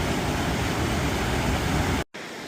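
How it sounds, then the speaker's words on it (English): A small stream with little waterfalls rushes across a hiking trail near Kearsarge Pass, a dense, steady roar of flowing water close by, briefly cut off near the end before resuming more faintly. "So there's like 3 little stream crossings across the trail right here with little waterfalls"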